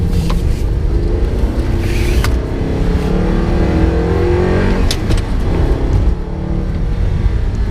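A stock-exhaust Audi R8 accelerates hard on a mountain road, its engine roaring loud and close throughout from an in-car perspective, with continuous revving and rising pitch and no pauses.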